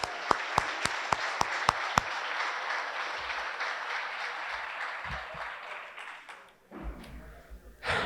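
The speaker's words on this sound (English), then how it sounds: "Give them a round of applause." At a men's lacrosse awards breakfast, the audience applauds the new players with sustained crowd clapping, led by a few loud, evenly spaced claps nearby, before it dies down into room noise and brief talk.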